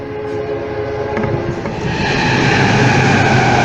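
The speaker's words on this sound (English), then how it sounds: "Comes the train." A train rumbles past close by, its steady mechanical roar building and growing louder as it passes.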